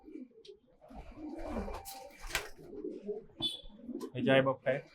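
A two-year-old red Dubbaj pigeon coos in short low bursts mixed with other bird calls, with people talking nearby.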